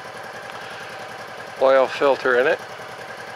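Honda Pacific Coast PC-800 motorcycle engine idling steadily with an even low pulsing throb throughout, someone speaking briefly over it partway through.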